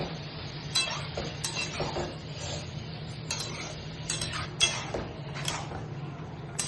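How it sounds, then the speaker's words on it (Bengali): Vegetable pasta being stirred in a pan, with light intermittent clinks and scrapes of a utensil against the cookware over a steady low hum, fairly quiet and spread across several seconds with no talking. "পাস্তাটাকে খুব ভালোভাবে নাড়িয়ে নিয়ে"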